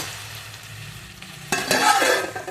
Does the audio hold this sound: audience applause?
no